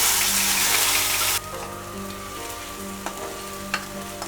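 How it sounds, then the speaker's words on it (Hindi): Garlic, onion and ginger paste hits hot oil with a loud burst of sizzling that drops to a steady, quieter frying hiss after about a second and a half, with a few faint stirring clinks near the end. "अब हम लहसुन प्याज और अदरक का पेस्ट डाल रही"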